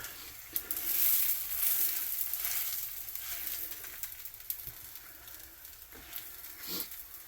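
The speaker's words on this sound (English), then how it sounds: "take a flour tortilla here, just kind of spread that oil around" A flour tortilla sizzles in pork carnitas frying oil, a steady close crackle and hiss with brief pops and scrapes as the oil is spread around the pan.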